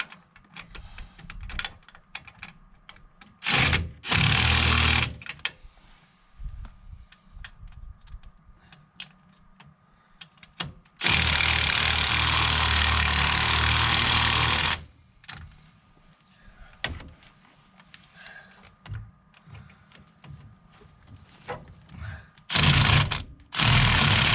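A power tool runs lug nuts onto the wheel hub of a 2007 Dodge Ram 1500 during a wheel bearing replacement in a driveway. Loud rattling bursts come close up: two short ones, a long one lasting several seconds, and a final short burst, separated by quieter handling clatter.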